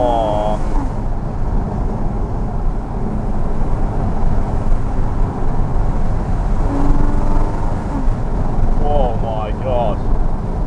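A Porsche Cayman S 981 drives on a road, its engine a steady rumbling drone heard from inside the car with road and wind noise, and brief rising tones as revs change.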